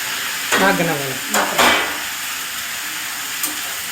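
Tomatoes tipped into onions frying in a pan for South Indian tomato bath, with bursts of sizzling and stirring scrapes. The loudest bursts come near the start, settling into a low background sizzle.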